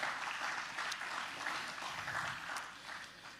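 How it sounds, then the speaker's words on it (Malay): Distant applause from a church congregation at a sermon, a steady patter of many hands clapping at low volume throughout. "Mari kita beri tepukan kepada Tuhan."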